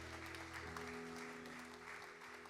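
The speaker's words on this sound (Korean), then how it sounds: "우리에게 승리 안겨주신 우리 주님께 감사와 영광의 박수 올려드립니다" Congregation in a Korean church applauding during a Sunday service, a dense continuous clapping over a sustained low musical tone, fairly quiet and steady throughout.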